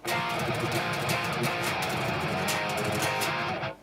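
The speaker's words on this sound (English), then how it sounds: "That's the sound of palm-muted tremolo picking." Fast palm-muted tremolo picking on a distorted metal electric guitar, a dense, chugging stream of rapid notes played continuously and close, ending abruptly.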